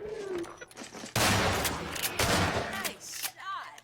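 Gunfire in the video game Half-Life 2 Episode 1, a loud burst of rapid automatic shots after a quieter stretch, then scattered follow-up sounds, with a voice talking faintly at the start.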